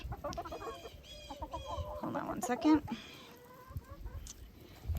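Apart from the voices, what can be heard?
rooster clucking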